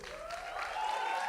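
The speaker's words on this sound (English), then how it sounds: "I actually would like to humbly request that we give them a round of applause as they ascend the stage." Audience at the Miss Bachelorette South Africa 2025 finale applauding as a team ascends the stage: brief, moderately quiet wash of clapping that builds slightly, with a faint tonal hum beneath.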